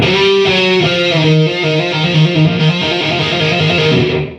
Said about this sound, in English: start trilling or hammering on and pulling off, but it starts out a little bit slower and then picks up speed